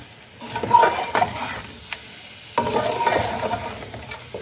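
Spices and dried coriander are mixed in a bowl for Hyderabadi chicken dum biryani, with two bursts of scraping and rubbing and a few light clinks of a spoon, close by, with no talk.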